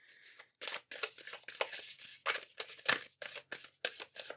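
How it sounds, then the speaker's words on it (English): Tarot cards shuffled by hand at close range, a quick run of crisp riffling bursts and flicks after a short pause, with no voices. "Oh, that wasn't a very good shuffle. We're going to try that again."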